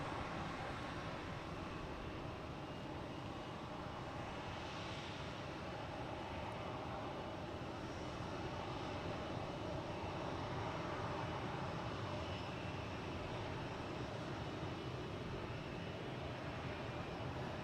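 Airbus A220 airliner flying a go-around at Boston Logan Airport, its engines a faint, distant, steady broadband roar that holds for the whole stretch.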